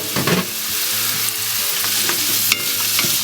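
Chopped onions and carrots fry in a pan for a Croatian sausage and bean stew, a steady close sizzle with scraping stirs and a sharp clink partway through, no voices.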